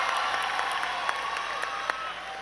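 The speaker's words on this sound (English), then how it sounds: "Give my spotter a round of applause." Convention audience at a national FFA keynote applauding steadily, a dense wash of clapping from a large hall crowd with a few sharper individual claps standing out.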